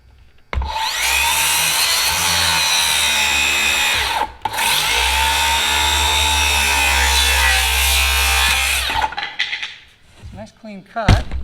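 A circular saw whines loudly through two cuts separated by a short pause, its pitch dropping under load as it bites into the workpiece, then spinning down before faint handling sounds.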